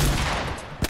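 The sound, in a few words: gunfire in the video game Fortnite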